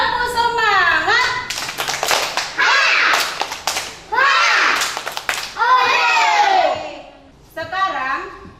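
Children in an Indonesian primary classroom chant together in a loud sing-song rhythm, punctuated by bursts of synchronized hand clapping between the chanted phrases.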